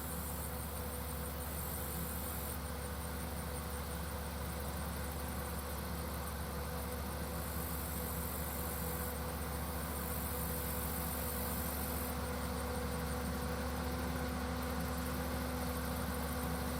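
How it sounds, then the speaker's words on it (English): A power shift tractor engine idles steadily with a low, even rumble and hum, unchanging for the whole stretch, fairly faint and without voices. "And this is a power shift tractor."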